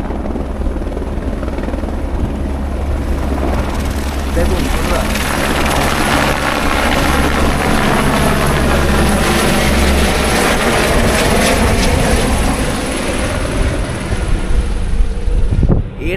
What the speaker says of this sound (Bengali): তো হেলিকপ্টারটা এখন টেক অফ হবে